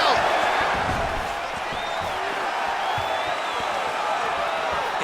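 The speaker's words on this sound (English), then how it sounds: "you hear the crowd react every time they come together" A UFC 4 video game featherweight bout with an arena crowd murmuring and stirring as fighters exchange strikes, a broad steady roar with a few brief shouts, heard under commentary.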